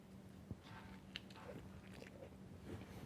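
A close bite into crusty bread topped with baked egg, runny yolk and crunchy bacon, with a couple of sharp crunches followed by soft chewing.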